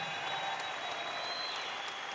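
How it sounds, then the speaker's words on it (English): Arena crowd applauding after a twelve-round professional boxing contest, a dense, even roar of clapping heard from a distance with no voices on top. "A round of applause, a magnificent contest."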